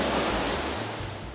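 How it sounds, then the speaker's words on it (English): Distant waterfall in the Rio Camuy caverns, dropping about 60 feet above an underground river, gives a steady, even broadband rush of falling water with no voices. "What you're hearing is a waterfall 60 feet above the river,"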